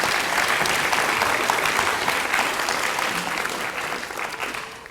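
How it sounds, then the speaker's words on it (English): A graduation audience at University Park Campus School claps in sustained, dense applause that holds steady before easing slightly at the end. "I'll give a round of applause."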